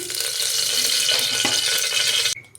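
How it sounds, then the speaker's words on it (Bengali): White cooking oil poured into a hot pressure cooker, a loud close bright hiss and sizzle that runs steadily, then drops off sharply near the end. "সাদা তেল দিচ্ছি।"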